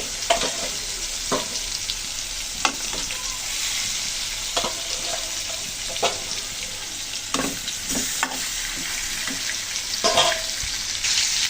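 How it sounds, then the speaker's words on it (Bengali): Pangas fish pieces frying together in a pan of oil give a steady close sizzle throughout, with occasional stirring scrapes and clinks breaking through at irregular intervals, and no voices. "সবগুলো মাছ একসাথে নিয়ে নিয়েছি, ভালো করে একটু ভেজে নেব।"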